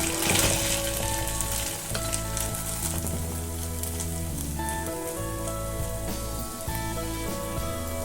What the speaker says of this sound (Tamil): தவாவில் எண்ணெய் ஊற்றிட்டு ஒன்றா போட்டு திருப்பி எடுத்துக்கலாம்.